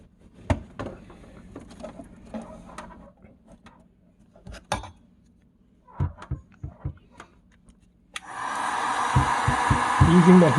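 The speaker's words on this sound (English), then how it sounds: "Using the heat gun to shrink up" A heat gun blows steadily while shrinking tubing on frozen freezer coils, starting around the eighth second as a loud broadband hiss after scattered clicks and handling knocks.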